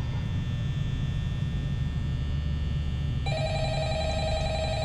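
An old-fashioned telephone rings in the video game Five Nights at Freddy's, a bright electronic trill that starts partway through over a steady low hum.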